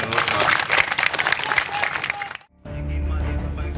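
A crowd at a Samajwadi Party political rally claps and cheers loudly in response to a speech, a dense burst of applause that cuts off abruptly, followed by quieter room noise.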